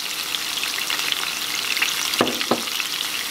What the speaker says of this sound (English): Now, we're gonna go ahead and add our garlic in the middle. And we're going to add our onions in the middle as well.